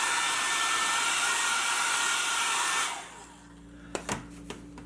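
A hair dryer blows loudly and steadily for about three seconds while drying wet paint coats on a woodcarving, then switches off, leaving a low hum and a few sharp knocks and clicks.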